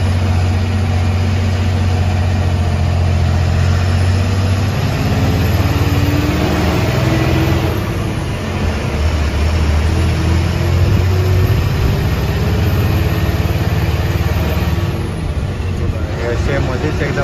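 A bus engine drones low and steady as it climbs and overtakes slow loaded trucks on the Gaganbawda ghat road, with constant road rumble and a faint whine.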